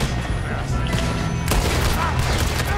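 Gunfire on a train in Red Dead Redemption II: a dense, crackling volley of shots rolls on without pause, with a strong burst midway, under game noise and voices.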